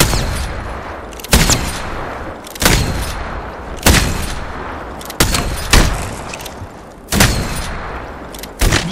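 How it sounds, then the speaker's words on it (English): Video game gunfire, loud close bursts of rapid shots recurring every second or so in a rough rhythm, each with a sharp crack and short decaying tail over a constant noisy background. "I'm taking fire."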